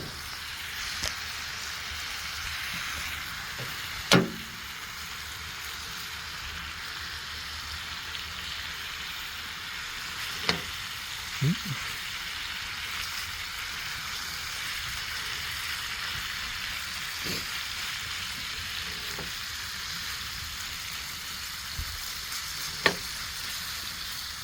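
Food seasoned with garlic powder fries in a pan at a camp outdoors, keeping up a steady sizzle. Occasional sharp knocks and scrapes of a utensil stirring cut through it.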